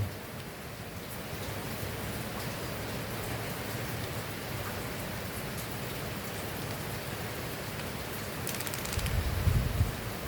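Steady rain hisses continuously and evenly throughout, with a low rumble swelling briefly near the end.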